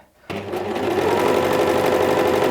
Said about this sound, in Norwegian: så syr jeg noen sting for å feste strikken